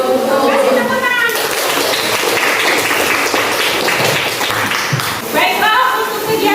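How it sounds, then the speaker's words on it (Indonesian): Children in a classroom applauding together, a loud dense burst of clapping that fills several seconds, with a teacher's voice talking before and after. "Kasih tepuk tangan."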